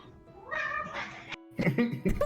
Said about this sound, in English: Was that our cat?